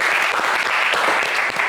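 A French game show studio audience applauds steadily, a dense, even wash of clapping that holds at full strength throughout with no speech over it.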